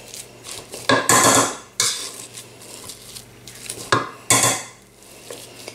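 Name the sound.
mashing and mixing potatoes with chili in a bowl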